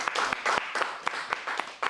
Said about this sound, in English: Can we applaud these poems?